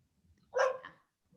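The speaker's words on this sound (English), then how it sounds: "My dog's got a lot to say in the background there." A dog barks in the background during a music interview: a single short bark with a brief trailing yip, fairly faint and distant, in a quiet room with no overlapping talk.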